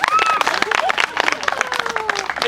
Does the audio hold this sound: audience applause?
yes